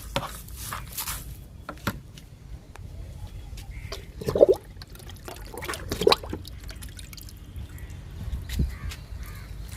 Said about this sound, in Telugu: డబ్బాలు పోస్తున్నా జామ మొక్కకి ఇచ్చేద్దాము లిక్విడ్ని